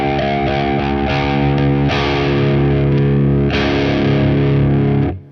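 Electric guitar played through a Stone Deaf PDF-1X distortion pedal with boosted mids, loud sustained overdriven chords that ring steadily for several seconds, with a few strummed changes, then cut off abruptly.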